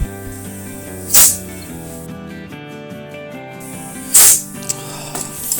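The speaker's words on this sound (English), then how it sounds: "introduce air until the piston pops out" Compressed air is blown into a Winnebago brake caliper to force the piston out: two short, loud bursts of hissing air, a few seconds apart, over steady background music.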